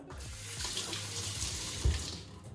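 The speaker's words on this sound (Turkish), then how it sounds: "Elime de bir yıkayayım şöyle." Water runs steadily from a tap while hands are rinsed beneath it at a kitchen sink, a continuous close splashing hiss with a brief louder splash near the end.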